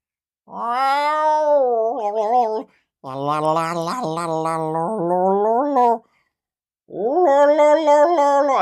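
A cat lets out three long, drawn-out meows, each sustained and wavering in pitch, separated by short silences and heard up close.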